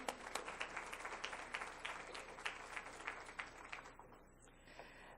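Audience at a school board meeting applauding award winners, a dense burst of many hands clapping at moderate distance that thins and fades out over a few seconds.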